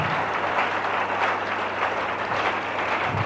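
Church congregation clapping hands in praise during a worship service, a steady dense wash of applause filling the room, moderately loud and continuous.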